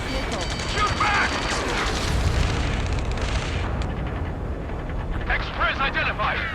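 Missiles explode and guns fire during a space elevator battle in the video game Ace Combat 7, a dense loud rumble of blasts and rattling shots, with shouted radio voices over the din.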